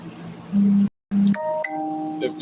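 A doorbell chimes twice in quick succession, a bright ding-dong with ringing overtones, loud and close; a brief dropout splits the first tone, and the chimes ring on as they fade.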